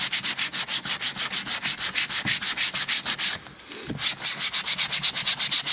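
Hand-sanding hardwood with folded sandpaper for a DIY clock: steady, fast back-and-forth rasping strokes in an even rhythm, close and loud, with one brief pause midway before the strokes resume.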